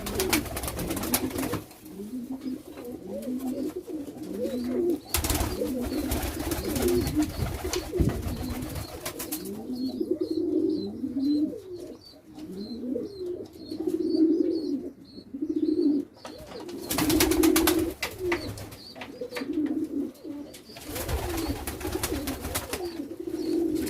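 Malatya pigeons, including newly hatched young, coo steadily inside a coop, their soft rolling calls repeating close by throughout with brief louder bursts of flapping or bustle.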